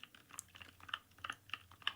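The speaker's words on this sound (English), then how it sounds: "I'm actually typing this all out for you" Soft, irregular typing on a computer keyboard at a hotel check-in desk, with quick close taps and small clusters of keystrokes, quiet and alone.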